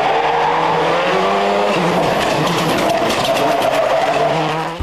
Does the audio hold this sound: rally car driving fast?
yes